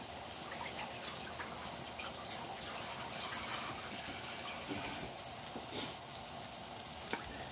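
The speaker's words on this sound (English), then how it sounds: "Let me wash my hands real quick." Tap water runs steadily as hands are washed at a kitchen sink, a continuous soft hiss and splash with small irregular spatters, heard close and alone.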